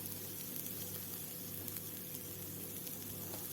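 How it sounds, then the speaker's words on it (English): Chili powder and garam masala hitting hot oil with well-cooked grated coconut, a faint, even sizzle and light crackle running steadily throughout, quiet and close with no voices. "now I'm going to add in my spices. The chili powder, the garam masala"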